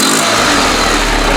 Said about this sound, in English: Today we're getting the Honda running.